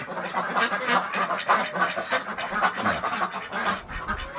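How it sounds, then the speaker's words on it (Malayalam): Ducklings on a farm, kept among quail in a netted enclosure, quacking and peeping continuously in a busy, overlapping chorus, close by and fairly loud with no one talking. "ഇതിൻ്റെ ഇടയ്ക്ക് താറാക്കുട്ടന്മാരുണ്ട്"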